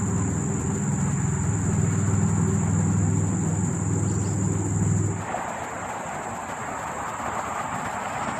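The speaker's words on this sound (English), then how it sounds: "Still hear the cars on the highway though, very loud." Steady roar of highway traffic near a quiet woodland cemetery on a September afternoon, a continuous wash of tyre and engine noise with a high insect-like whine on top, easing slightly halfway through.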